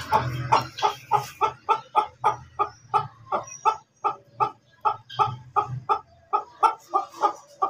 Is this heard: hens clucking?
yes